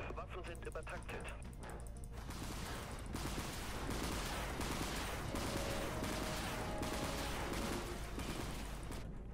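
Overclocked ship weapons fire in rapid, dense volleys during space combat in the video game Dreadnought. The bursts are loud and sustained throughout, with a voice talking over them.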